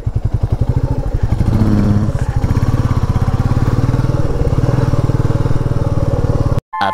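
A motorcycle engine putters close by on a road in Shimla, India, a loud, rapid, steady thumping that holds for several seconds before cutting off abruptly.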